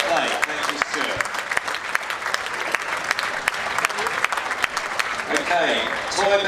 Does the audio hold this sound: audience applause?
yes